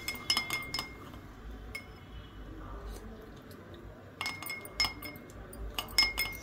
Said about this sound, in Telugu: సో ఇది బాగా కలుపుకోవాలండి, అంటే కరిగేదాకా.